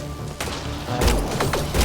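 Gunfire in a video game: a few sharp, loud broadband bursts, the first near the start and a cluster of rapid shots in the latter half, with a low rumble beneath.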